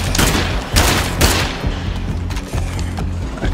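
Heavy, loud gunfire in State of Decay 2, a sustained barrage of rapid shots with a few stronger booming blasts, continuous and close throughout.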